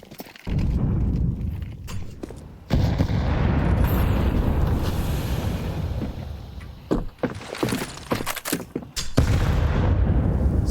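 HE grenade explosions in Counter-Strike 2 during a competitive match, several heavy low booms in succession, with sharp transient bursts and rumbling debris between them and no voices.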